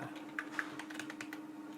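A short burst of typing on a computer keyboard while entering Python code, several distinct close keystrokes in quick succession over a low steady hum.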